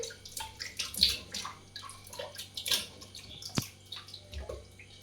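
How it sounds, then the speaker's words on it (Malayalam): Washing under running water, with close splashing and trickling that comes in uneven pulses, plus a few sharp clinks and drips. "ഇനി നേരെ കഴുകാൻ നമുക്ക്"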